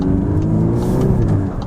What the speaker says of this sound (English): it will actually let you bang off the rev limiter though